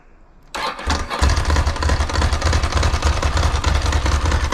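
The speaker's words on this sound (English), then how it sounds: "The motorbike is running off its own power, so there's no need to leave the jumper cables on." A motorcycle engine catches after a jump-start with jumper cables, a short crank then the motor firing up and settling into a loud, steady, throbbing idle close by.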